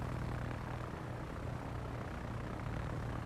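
Inside a submarine video game, an aircraft drones overhead with a steady, faint engine hum held evenly throughout, with no voices.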